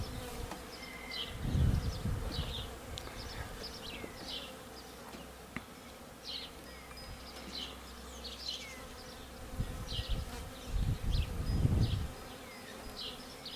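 Honeybees swarm around a newly set up beehive outdoors, a steady close buzzing of many insects with individual bees zipping past, and two louder low rumbles of handling noise or wind.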